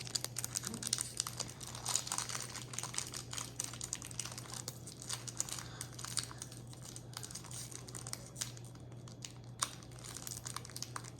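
A Pokémon card booster pack wrapper is torn and crinkled open by hand, a steady close crackle of foil plastic with sharp ripping clicks throughout and a faint constant hum underneath.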